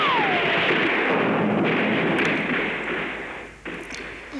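Dense, sustained roar of gunfire from a film battle scene around a blockhouse, loud and continuous with a high whistle early on, easing slightly toward the end.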